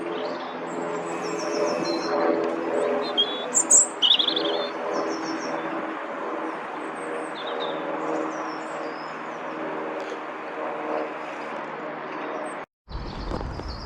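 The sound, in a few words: robin singing on a walk at the Leasowes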